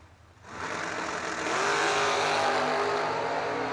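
A Chevrolet Nova and a Camaro drag racing on a bracket racing strip, loud engines roaring up suddenly from quiet and holding a sustained, rising howl as the cars run down the track.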